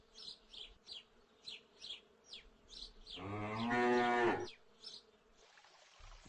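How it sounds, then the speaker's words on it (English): A cow gives one long, loud, drawn-out moo on a farm, with buzzing flies or bees droning in short bursts before and after. "This is a cow."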